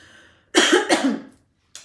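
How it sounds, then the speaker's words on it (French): Two or three quick, harsh coughs close to the mic, followed by a brief pause and a short final cough starting at the end. "je tousse toujours"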